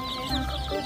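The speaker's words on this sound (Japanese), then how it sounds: "ほら、はるちゃんひよこ見の初めてちゃう" Chicks at a petting zoo with chickens nearby: a short burst of close soft clucking and peeping calls, fairly loud, with no clear talk over it.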